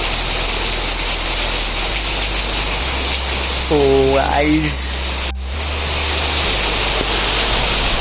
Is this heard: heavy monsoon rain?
yes